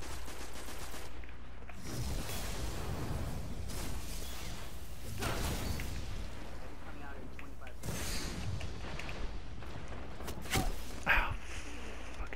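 Weapons fire in a Destiny match on Exodus Blue, with a hand cannon and a longbow sniper rifle among the guns, bursts of repeated shots and whooshes over a rumbling bed while players talk throughout.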